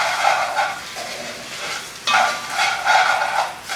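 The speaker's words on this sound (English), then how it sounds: "I'm throwing the rice in there, long grain rice. That goes in there, right? We're gonna stir this guy up." Long grain rice browning in oil and mojo in a pan is stirred, crisp scraping strokes in two bursts over a soft continuous sizzle, close and clear with no talking.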